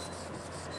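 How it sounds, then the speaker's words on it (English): Wet sanding across a painted finish makes a close, steady, continuous rubbing rasp in a brief burst. "This wet sanding right there"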